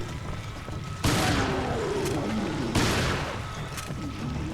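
Two heavy shotgun blasts from Resident Evil Revelations Raid Mode, spaced well over a second apart, each a loud broadband boom with a decaying tail over steady game ambience.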